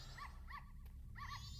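Dog in the video game The Legend of Zelda: Majora's Mask, a racing dog, giving three short bark-like yelps in a quick rhythm over a low background hum, with no talk.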